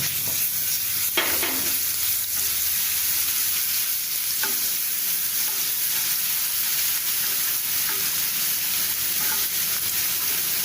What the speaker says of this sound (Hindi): ये देखिए तेल हमारा गरम हो गया, इसमें हम ये लहसुन और जो जीरा हमने पीसा था इसको हम डाल देंगे।